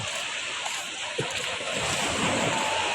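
Gentle ocean waves wash along a beach in a soft continuous hiss with some wind rumble, moderately loud and unbroken, no talking.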